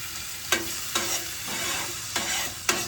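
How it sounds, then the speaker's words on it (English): A spoon stirs minced garlic through sizzling butter in a pan on a hunting camp stove, four or five sharp scraping clinks over a steady close frying hiss. "Stir around that butter good."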